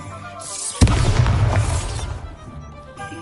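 A Bombarda blasting spell goes off as a sudden loud boom, followed by a rumbling, crackling burst of debris that fades over about two seconds.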